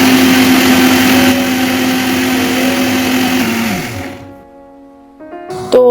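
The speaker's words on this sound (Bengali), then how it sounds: "একটুখানি গ্রাইন্ডারে রেখে কিন্তু পেস্টটা বানাতে হবে" A mixer grinder blends a smooth paste for paneer butter masala, a loud steady whine with a falling pitch as the motor spins down and stops about four seconds in, followed by a brief clatter of the jar.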